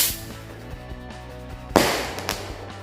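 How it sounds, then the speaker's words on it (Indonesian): A Circle Blitz firecracker goes off with one sharp, loud bang after a quiet lead-in, followed by a few smaller crackling pops as the echo fades. "Selanjutnya kita nyalakan mercon Circle Blitz. Ini bisa meledos di bawah dan juga meledos di atas."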